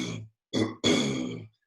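A person gives a few short, throaty grunts, imitating a gorilla's low welcoming call, in three quick bursts.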